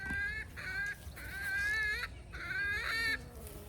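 Free-range chickens on a farmstead nearby make a few drawn-out, squawking clucks in quick succession over a quiet background.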